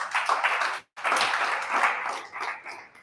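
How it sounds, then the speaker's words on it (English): Audience clapping during a live wellness talk, a dense, steady patter of many hands that stops abruptly for a moment and then resumes, tapering toward the end. "Clap for yourselves now that you're learning."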